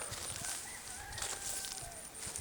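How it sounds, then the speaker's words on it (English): Chickens cluck and a rooster calls faintly in the distance over a soft outdoor background. "You could hear the chickens, or the rooster."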